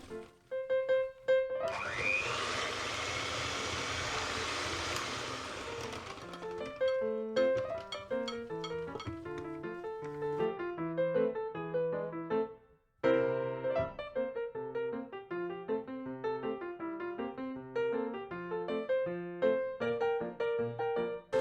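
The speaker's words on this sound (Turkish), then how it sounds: "Mikserde de işimiz bitti." An electric hand mixer whips Belgian waffle batter with a steady high whir for a few seconds under background music. The mixer then stops and only the melodic music continues.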